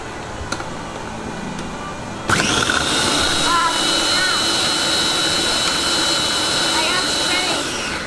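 A kitchen blender pulses pierogi ingredients, a loud steady whirring motor that kicks in abruptly after a quieter stretch with a voice and runs continuously to the end.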